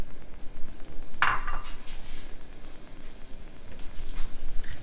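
Mushrooms sizzle in a pan of olive oil and butter over medium-high heat, a soft, steady frying hiss with one sharp metallic clink of a utensil against the pan early on.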